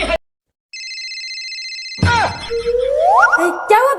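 An incoming call's phone ringtone plays as a steady electronic tone for over a second, then gives way to louder voices and swooping sound effects.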